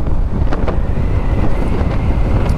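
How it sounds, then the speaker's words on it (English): Strong headwind roaring across the microphone while riding a Suzuki Address 110 scooter at speed, a loud continuous low buffeting rumble with no speech. "I find I am going at full throttle at 60 to 80 kilometers an hour if there's a big headwind."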